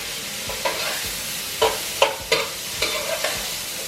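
Chopped onion and carrots stirred in a pan over a soft frying sizzle, with a series of brief scraping clicks from the spoon against the pan at close range and no talking.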